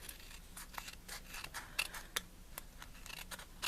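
Scissors trim cardstock for a handmade card in a quick series of sharp, close snips, with short pauses between cuts.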